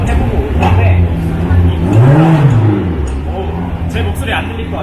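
A small Formula 4 race car with a roughly 1.6-litre, 140-horsepower engine on a track, its loud engine note rising and falling through one clear rev swell, with a person talking over the noise throughout.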